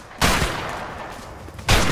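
Two loud, close gunshot bursts in the video game A Way Out, one near the start and another near the end, with a noisy ringing wash between them and no talk.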